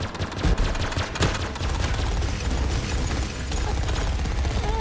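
Gunfire in the VR game Grapple Tournament, with a quick cluster of loud, punchy shots early on, then a steady, busy backdrop of game noise and scattered fainter shots.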